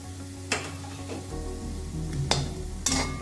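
Chili, turmeric and pepper powders with salt stirred into a frying egg scramble mixture, a steady sizzle broken by a few sharp scraping or clinking stirs of a utensil against the pan.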